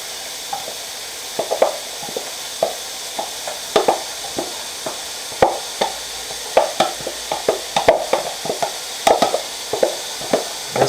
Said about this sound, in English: Now we're gonna add the cactus